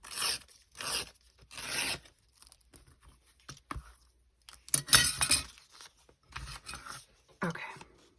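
Scissors trim small paper envelope tabs to a straight line in short crisp snips, with several close cuts, quiet pauses and some faint paper rustling.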